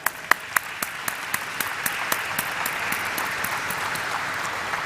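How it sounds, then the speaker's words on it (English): Applause at a stock exchange listing ceremony for Flair Writing Industries Limited, a steady crowd clapping with a few sharp, distinct claps standing out early, then settling into a sustained, even patter with no talking. "Well, the claps should still be going on."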